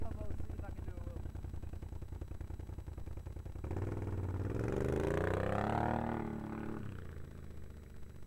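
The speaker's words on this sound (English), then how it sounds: "when you put it in eco mode, like the exhaust completely shuts off. Like it's so much quieter." Can-Am XMR 850 quad idling in eco mode with a pulsing exhaust, then rising into a loud revving engine with climbing pitch that eases back down, close up and with no talk.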